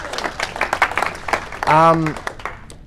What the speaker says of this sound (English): give yourself a round of applause for doing that